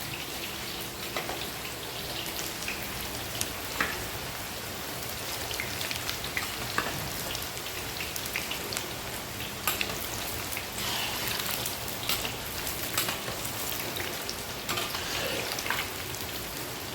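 Six-number bakery snacks fry in hot oil in a pan, a steady close crackling sizzle with scattered pops continuing throughout, no talking.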